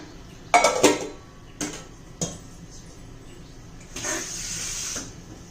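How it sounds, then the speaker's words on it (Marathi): A metal lid set onto a pot of chicken biryani, a pair of close clanks followed by two lighter taps, then a short hiss of steam or scraping near the end. "त्यावर झाकण ठेवूया"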